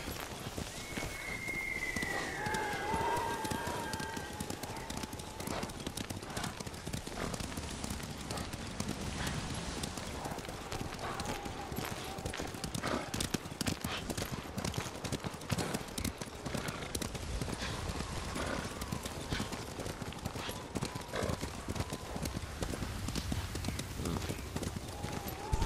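Horse hooves galloping in the samurai game Ghost of Tsushima, a steady rapid clip-clop running throughout, close and loud, with a brief whinny near the start and voices talking over it.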